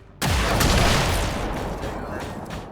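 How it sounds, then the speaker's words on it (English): A single heavy gunshot from the video game XCOM 2 War of the Chosen booms loudly and close, then rolls into a long, fading rumble. "the mech meanwhile is an easy one-shot kill for Tsunami, who is, as usual, sporting blue screen rounds"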